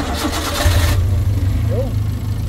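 A car engine cranks and catches, settling into a loud, close, steady idle while someone talks over it; the car has a starting fault where it starts normally but won't keep running.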